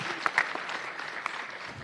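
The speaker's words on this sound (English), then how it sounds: "Give him a round of applause." Applause from an audience at a Los Angeles County board meeting, a steady wash of clapping filling the short stretch with a few sharper claps standing out near the start.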